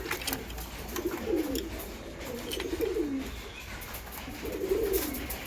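Pigeons in a breeding loft coo in three low, throaty rolling phrases, close by, over a constant hiss of background noise and faint chirps, with no talking.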